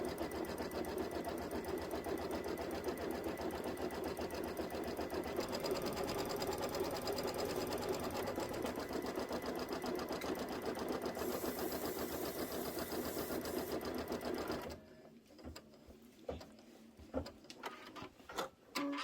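A sewing machine runs steadily and loudly while stitching the pieced outer borders of a Kimberbell Sweet as Pie quilt, a continuous motor whir that stops near the end, leaving scattered light handling clicks.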